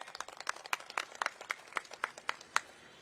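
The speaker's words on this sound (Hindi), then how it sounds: "इनके लिए तालियां बजा दीजिए अनिल प्रजापति जी" A rally crowd at a political march claps in sharp, separate hand claps that fall in a loose, slightly uneven rhythm, moderately near and fairly quiet, with no talk over them.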